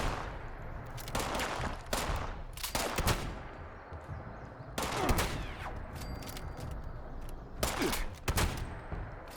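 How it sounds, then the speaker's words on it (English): Gunfire in the video game Fallout 76, a series of sharp shots and short automatic bursts spread irregularly over several seconds, fairly loud against a steady game ambience. "Stop shooting me."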